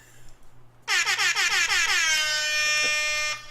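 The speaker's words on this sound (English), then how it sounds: "Yes, there will be air horn in this show." A loud air horn blares in a long sustained blast with a few stuttering honks at the start, then holds steadily before cutting off.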